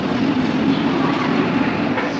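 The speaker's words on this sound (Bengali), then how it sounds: "এই দেখো আমাদের ট্রেন ঢুকছে" A train pulling into a station on a rainy day, a steady low rumble and rolling hum heard fairly close and continuous, with no distinct clatter standing out.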